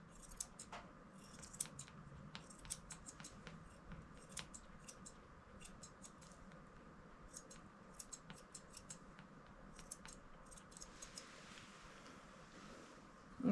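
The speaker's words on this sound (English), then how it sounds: "I'm gonna brush that out and then cut to clean up the edges" Grooming scissors snipping a pet's fur to tidy the edges, a faint, steady run of quick close metallic snips repeating throughout against a quiet room background.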